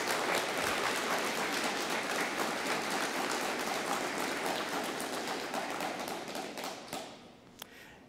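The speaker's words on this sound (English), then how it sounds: "Let's give them a big round of applause." A police academy graduation audience gives the academy instructors loud, dense applause that holds steady, then thins out toward the end with a few last claps.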